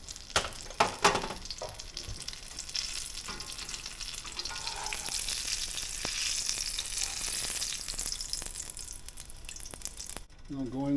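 Cheesy bean and brisket burritos fry in a pan, giving a continuous close sizzle with occasional sharp clicks and scrapes of a utensil, then a brief pause near the end.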